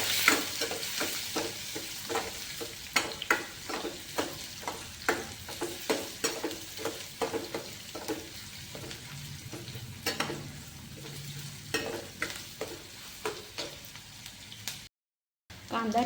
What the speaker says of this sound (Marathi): कांदा आपल्याला गुलाबी रंगावर परतून घ्यायचा आहे।